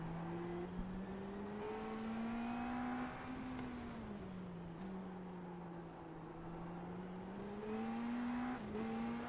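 An IndyCar NXT race car's engine heard from the cockpit in iRacing at Portland, a steady droning whine that rises and dips with throttle and gear changes, held continuously and fairly quiet with no talk.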